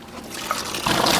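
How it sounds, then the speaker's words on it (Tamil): Water from a newly bored well near Kelambakkam on OMR, Chennai, gushing steadily and growing louder toward the end, close and continuous with no voices. "நம்ம போர் போட்டு தண்ணியும் வந்துட்டு இருக்கு"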